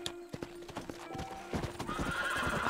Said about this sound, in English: I'm trying to ride a horse